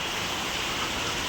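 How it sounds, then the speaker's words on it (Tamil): Rain pours down in a steady, dense hiss during a thunderstorm, with an even roar and no distinct thunderclap or voices. "மழை பெய்யுது, இடி சத்தம் அடிக்குது."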